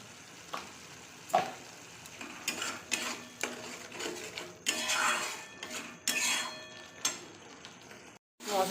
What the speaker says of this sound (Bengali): মশলাটা আমি কষিয়ে নেব